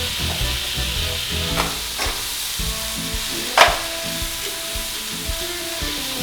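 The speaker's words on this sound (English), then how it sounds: "while that is cooking down, you add the 2 chopped onions into the mix" Beef and two chopped onions fry in a pan for a lasagna sauce, with a steady sizzle, scattered pops and a few scraping stirs, one sharper clack near the middle.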